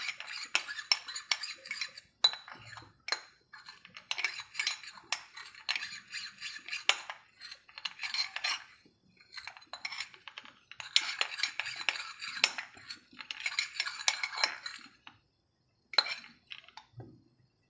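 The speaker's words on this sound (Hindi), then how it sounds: "अच्छे से इसे मिक्स कर लें ताकि कोई लम्प्स ना रहे" A spoon whisks a cornflour-and-water slurry in a bowl, producing quick bursts of rapid clinking and scraping against the sides, separated by short pauses, close and clear with no talking.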